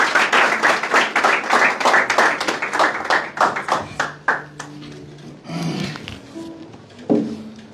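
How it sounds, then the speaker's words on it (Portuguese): An audience gives strong applause for an author at a book event: dense clapping that thins into scattered claps, with some chatter and faint tones near the end. "Por favor, Fontes, uma forte salva de palmas para o nosso autor."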